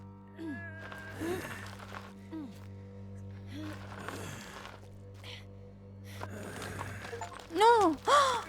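Kitten in the Alfred Hitchcock Vertigo video game giving a few short, faint meows, with a louder pair of rising cries near the end, over quiet game ambience and a man's gasps and sighs.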